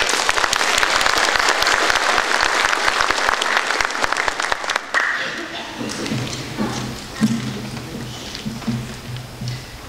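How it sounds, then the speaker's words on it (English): Audience applause at a high school National Technical Honor Society induction ceremony, dense clapping from a crowd for about five seconds that thins into scattered claps, shuffling and low murmuring. "Please let's give them a round of applause."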